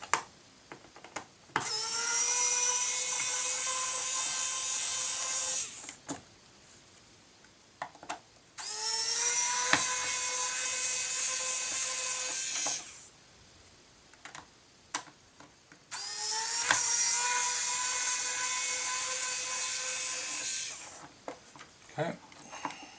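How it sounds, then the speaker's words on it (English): A powered driver whirs in three long, even bursts as it backs screws out of a wing servo mount on an NE14 NexStar RC plane wing, close and loud with brief clicks between runs. "going to back them out with the same driver"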